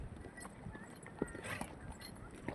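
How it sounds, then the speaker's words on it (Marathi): Horse hooves clip-clop over a rough, stony, unpaved mountain trail on the Amarnath Yatra pilgrimage route, with irregular steps amid a noisy outdoor bustle and faint background voices. "घोड्यावरनं प्रवास करताना."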